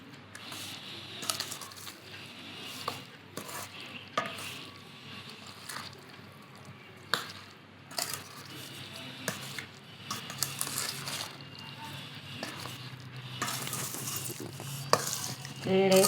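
Gooseberry pickle being stirred through hot oil in a pot, with scraping utensil strokes and soft clatter over a low sizzle, intermittent and moderately close, no talking.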